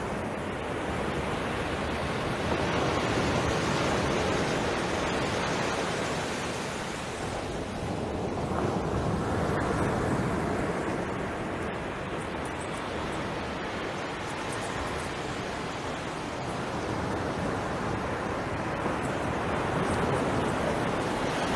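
Ocean surf at Maxwell Beach, a steady, loud roar of waves breaking on the shore with a broad wash of noise and wind across the microphone, swelling gently with no voices.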